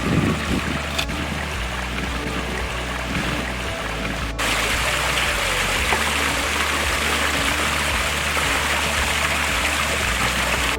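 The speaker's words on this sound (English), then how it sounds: "it's redirecting the water flow to create some more interest" Water from a pump pours steadily over a large garden pond waterfall and down a built stream, a continuous full rushing splash close by with no talk.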